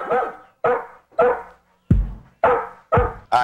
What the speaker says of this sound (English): What did that dog just say?